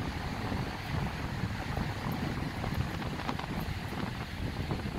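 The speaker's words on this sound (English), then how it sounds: "Today we've got a hell of a wind, as I know you can hear." Strong wind buffets the microphone on a public beach in Malibu, with surf rolling in underneath as a steady, loud roar that continues throughout with no talking.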